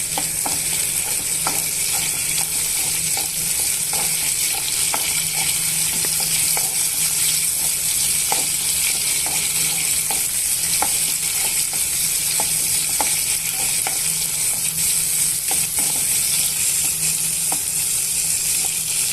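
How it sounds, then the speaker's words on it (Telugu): Tomato pieces and tamarind fry in hot oil for a dhaba-style peanut chutney, giving a steady close sizzle broken by frequent light stirring clicks, with no talk. "ఆ టమాటో ముక్కలన్నీ కూడా ఆయిల్లోకి వేసేసుకోవాలి తగినంత చింతపండు వేసుకొని బాగా వేగనివ్వాలండి"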